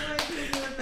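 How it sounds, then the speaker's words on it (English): A few people clap by hand together at the close of a podcast recording, a quick run of near, bright claps over voices and a sustained tone. "It's the first time we clapping at the end of the podcast."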